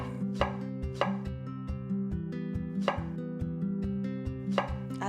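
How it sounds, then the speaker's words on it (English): A knife chops through about twelve ounces of fresh strawberries on a cutting board, giving crisp, close, evenly spaced thuds in a steady rhythm, alone in a quiet kitchen. "We'll be chopping about 12 ounces of fresh strawberries."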